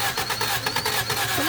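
A 1978 Honda Civic that sat unused for 26 years cranks over, its starter churning in a short, rhythmic pulsing burst heard up close with no talk.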